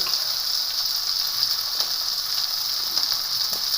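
Vermicelli toasting in a pan for Turkish rice pilaf, a steady close hiss of sizzling oil with faint stirring clicks, no talk.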